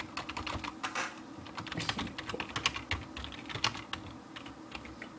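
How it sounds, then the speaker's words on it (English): Rapid, uneven clatter of keys being typed on a computer keyboard in a home room, close and moderately loud, with short pauses between bursts and no talking. "Sorry, it's a little bit inconvenient typing."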